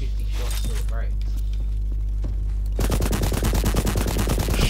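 A boss's weapon in Borderlands 3 opens up with loud, rapid automatic gunfire, a dense stream of evenly spaced shots that follows a few seconds of steady game hum and background effects.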